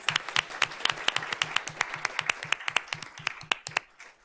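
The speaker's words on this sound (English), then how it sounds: "let's give them a round of applause." At a school board meeting, an audience applauds with a steady run of close, sharp claps that continue for about four seconds before stopping.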